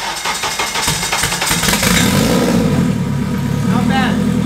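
An engine cranks with a rapid rhythmic churning, catches and fires, then settles into a running idle with a few revs, loud and close.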